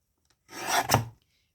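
A single brief rasping cut as paper journal pages are trimmed, a short dry scrape that rises and fades within about a second, heard close and alone.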